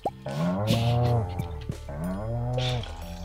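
In the Stardew Valley farming game, a cow moos when petted: two long, loud, drawn-out lows, one after another, with no talking over them.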